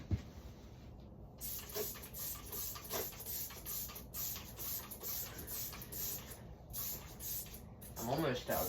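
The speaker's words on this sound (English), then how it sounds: "use a spray bottle full of gas." Gasoline misted from a handheld spray bottle onto an old, oil-caked 5.3L Vortec engine, a steady hissing spray running throughout with brief pauses and a few short squirts, close up.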